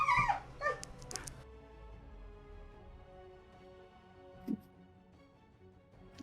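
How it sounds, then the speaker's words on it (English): A dog whimpers and yips faintly in a short burst at the start, followed by quieter, sparse whines against a low background hum. "Dog."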